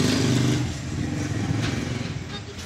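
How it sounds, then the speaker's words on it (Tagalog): A motorcycle engine runs nearby with a loud, steady rough drone and a slight lift in revs partway through, with no other sounds over it. "Ingay ng motor na yan."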